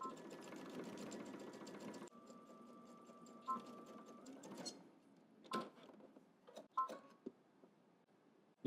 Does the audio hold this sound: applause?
no